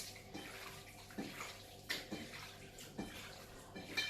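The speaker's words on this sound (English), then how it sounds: "I'm gonna wash my other hand," Tap water runs into a sink as hands are washed in a kitchen, a faint, steady trickle broken by a few soft splashes and rustles, with no talking.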